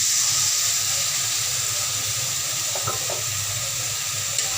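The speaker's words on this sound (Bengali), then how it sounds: "এখন দিয়ে দিচ্ছি হালকা একটু পানি।" Water poured into a spice mix frying in oil for a fish-head and radish curry sends up a steady loud sizzle and hiss, with no voices.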